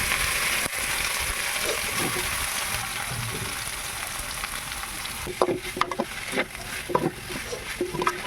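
Steady sizzling of a shark fish puttu mixture in a pan, followed by scraping and clattering stirring sounds near the end, close up and fairly loud.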